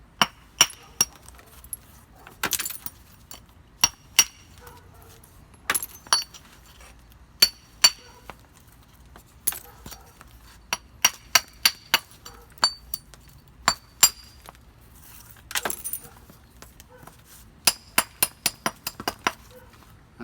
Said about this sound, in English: taking my billet and striking it